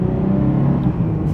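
A 2016 Nissan 370Z Roadster with its V6 engine drives in traffic, giving a loud, steady low engine rumble and whir heard up close without speech.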